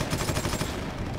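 A heavy bolter fires from a Predator tank in the video game Warhammer 40k: Eternal Crusade, a rapid burst of loud, thudding shots in quick rhythm.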